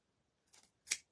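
Scissors snip off fabric pieces on a Halloween dress wreath built on a triangle board: a soft first cut, then a sharper, louder closing snip, close and alone.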